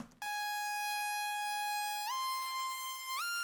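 A Plasma Lead synth patch from a Dinox Serum bank rings out alone, bright and buzzy with rich harmonics, holding long sustained notes that glide upward in pitch twice.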